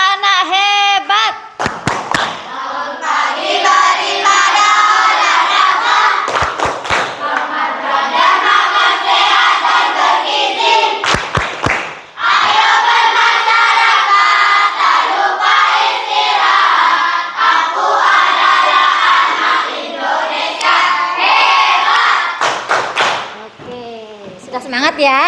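Schoolchildren in an Indonesian classroom chant and clap the 'tepuk anak hebat' routine together, a loud, sustained group of voices with sharp clap bursts breaking in at intervals.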